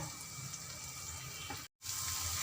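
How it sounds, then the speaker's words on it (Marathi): A continuous rush of water pouring into a pan, close and steady, with a brief cut near the end before it resumes. "आता यामध्ये थोडं पाणी टाकून घेते मी."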